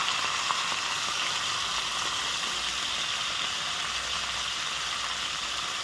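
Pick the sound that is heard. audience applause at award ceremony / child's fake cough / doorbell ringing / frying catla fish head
frying catla fish head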